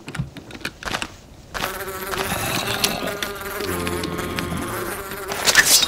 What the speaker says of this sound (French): Tuer une abeille dans Minecraft.